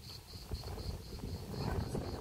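Strong wind outdoors buffets the microphone as a low, continuous rumble, with a faint, steady, high-pitched chirping tone pulsing above it.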